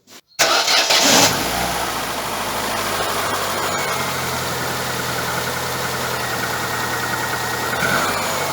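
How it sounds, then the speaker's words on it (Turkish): A car engine running on petrol, in a car with an LPG system, cranks and catches after a short click, then settles into a steady, close idle with a slight rev near the end. "Şu an arabamız çalışmıyor vaziyette. Arabamızı çalıştıralım."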